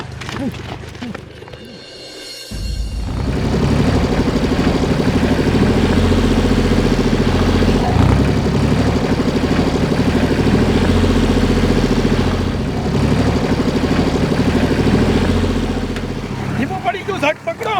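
Tractor engine chugging steadily at close range, a loud continuous mechanical drone with clattering, starting after a brief quieter moment with people talking over it.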